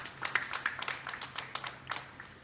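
A small audience at a news conference claps in a brief, scattered burst, quiet and somewhat distant, with no voices over it.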